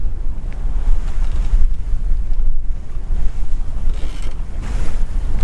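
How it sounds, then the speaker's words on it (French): A sailboat beating close-hauled along the Norwegian coast near Stavanger, with a loud, continuous rush of wind buffeting the microphone over the low wash of water against the hull. "Ça y est, on avance à la voile."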